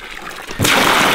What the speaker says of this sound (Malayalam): ആദ്യം നമുക്ക് കുറച്ച് വെള്ളം ഒഴിക്കാം